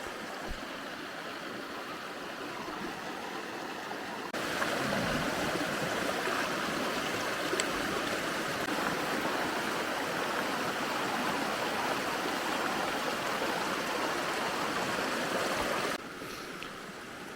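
A mountain creek near Mount Kidd in Kananaskis rushes steadily over rocks, a dense broadband wash of flowing water that swells louder midway and stays constant, with no voices.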